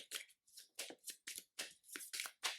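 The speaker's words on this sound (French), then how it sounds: "On va remélanger les cartes pour préparer le" A deck of playing cards shuffled repeatedly, with about eight quick riffling bursts in a steady rhythm, close up and clear, and no voices.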